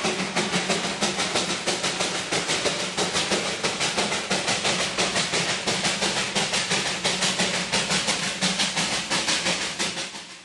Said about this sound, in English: these little engines claw their way up to Darjeeling each day